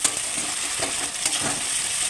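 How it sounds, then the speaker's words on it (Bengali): Ginger paste fried in oil and stirred in a pan, a steady close sizzle broken by soft scraping strokes, with no voices. "তো আদাটাকেও ভালোভাবে তেলে নেড়ে"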